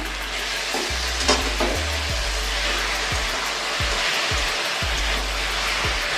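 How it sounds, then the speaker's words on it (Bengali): Chicken frying in a pan with the lid lifted off, giving a steady, loud sizzle and crackle with a few sharper pops throughout, close up and with no voices. "আমার চিকেনের ভাজা ভাজা হয়ে গেল"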